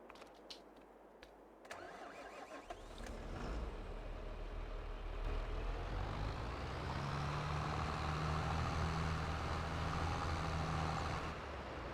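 A heavy truck engine in Farming Simulator 22 starts with clunks and a brake hiss, then holds a steady, loud, rising drone as it pulls a trailer away, with a low tonal hum running throughout.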